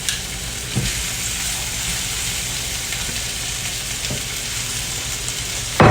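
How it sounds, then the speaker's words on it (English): Steak sizzles and fries steadily in a hot frying pan alongside sautéing fajita vegetables, a continuous close hiss with a few brief clatters of stirring and no talk. "I'm fixing to toss our steak back in, and then we're ready to go."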